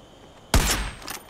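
Gunfire in the shooter game Far Cry 5: a single sharp, loud shot bursts in after silence, followed by a brief rattling tail and echo.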